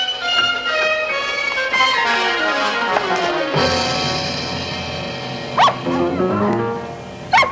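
Dog barking and yipping close by in an old 1959 television drama, with rising whimpering yelps over a held musical tone and several sharp barks later on.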